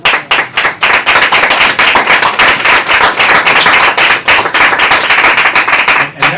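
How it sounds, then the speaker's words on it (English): Loud, close round of applause from an audience at a talk on African peoples and languages, dense rapid clapping sustained throughout with a few brief dips in intensity. "Please give me a round of applause, please."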